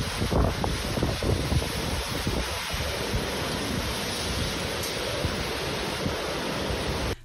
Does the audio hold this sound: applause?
no